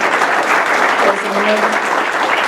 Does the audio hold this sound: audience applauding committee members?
yes